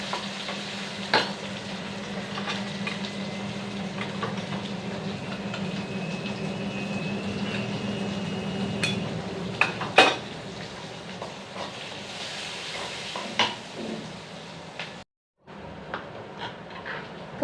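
Tempering spices for tomato dal sizzle steadily in a hot pan, a continuous close crackle with occasional stirring clinks and a brief cut near the end; no talking.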